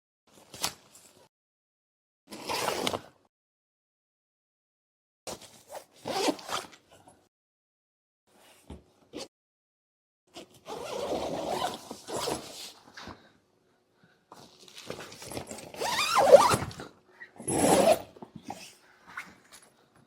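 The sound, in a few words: zipper opening roof tent side walls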